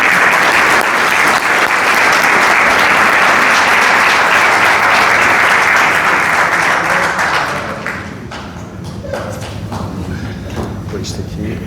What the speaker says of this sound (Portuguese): Dr. Pedro Frazão, uma grande salva de palmas.